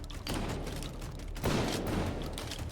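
KS-23 shotgun fire in a VR shooter game: loud, close booming blasts over a dense wash of noise, with a heavy shot near the start and another a little over a second later.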